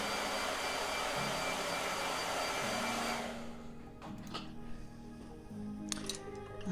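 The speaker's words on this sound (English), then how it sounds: "Blow dryer." A hair dryer runs loud and steady with a broad whooshing blow for about three seconds, then cuts off, leaving quieter room sound with faint thuds.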